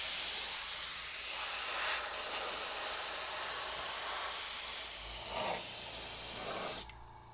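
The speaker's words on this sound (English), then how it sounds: "This airbrush is pretty filthy and not working very well" Steady, soft hiss of a dirty, poorly working airbrush spraying paint, continuing evenly without a break and ending with a sharper burst of air.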